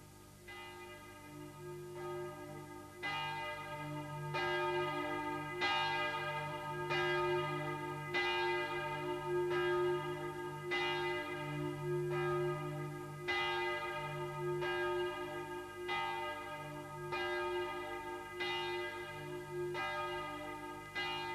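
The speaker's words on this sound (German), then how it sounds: "Die Glocke, die uns alle ruft" A church bell tolls steadily at a measured pace, each strike ringing out and blending into a sustained, resonant hum with no voices.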